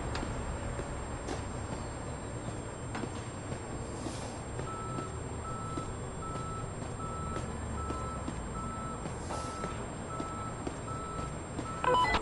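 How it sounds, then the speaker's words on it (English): Tow truck arriving and reversing in a video game, its backup alarm giving quiet, regularly spaced beeps over a low vehicle hum and background noise. "There's the tow truck now."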